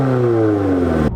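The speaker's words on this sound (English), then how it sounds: "The AWE exhaust does sound really good." A Subaru VB WRX fitted with an AWE touring exhaust revs up and falls away in one smooth, loud, close pass, the tone sliding down before cutting off sharply.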